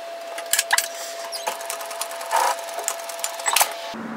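Sewing machine running a short seam with a 1 cm (3/8 inch) seam allowance on a shacket, a close, steady mechanical whir broken into quick bursts of stitching, with no talk.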